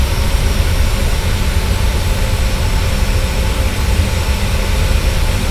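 Steady, loud broadband roar of a Boeing 737's jet engines in flight, on an Alaska Airlines Honolulu-to-Seattle flight under an in-flight emergency, continuous and unbroken, with no talk.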